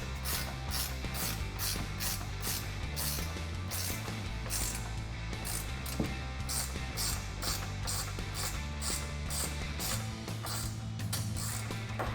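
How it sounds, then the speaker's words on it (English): Bumper bolts on a Jeep Wrangler JL Barricade Battalion stubby front bumper are tightened with an Allen key and 13mm wrench, a rapid continuous ratcheting click that runs steadily and close for the whole stretch. "take our provided Allen key and a 13mm wrench,"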